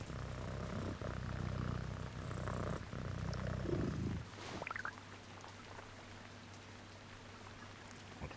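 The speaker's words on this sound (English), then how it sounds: "there's a house next door that has a fucking cat." A cat in the survival crafting game Once Human purrs in a low, rumbling loop for several seconds, then stops, leaving a faint steady hum.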